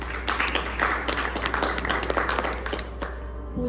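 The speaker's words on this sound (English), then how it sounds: "Make a big round of applause" Audience applause welcoming a vocalist onstage at a Carnatic-style LOTUS concert: a dense, steady burst of many hands clapping that continues for several seconds and then tapers off near the end.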